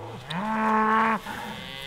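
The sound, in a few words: cattle mooing in an autumn calving herd of cows and calves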